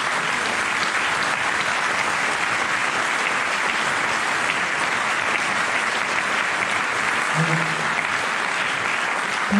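Hall audience at a New Year's greetings ceremony applauds a city medal recipient with steady, sustained clapping from many hands for nearly ten seconds, a voice briefly audible near the end.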